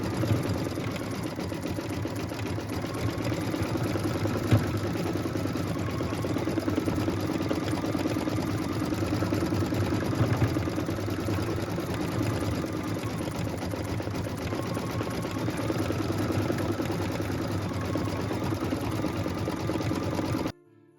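An embroidery machine stitches leaves in medium green thread, a fast steady mechanical rattle close by that runs evenly for about twenty seconds with no talk.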